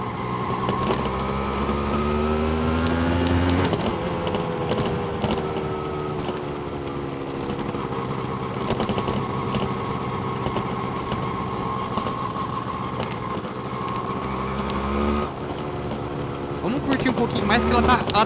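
A Yamaha DT motorcycle engine runs steadily throughout, its pitch rising and falling as it revs, with a shift near the middle and talk faintly mixed in.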